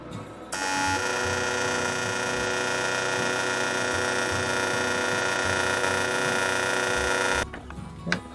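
Welding a metal monitor bracket for a campervan build, a steady buzzing electric hum lasting about seven seconds, loud and close, then stopping abruptly.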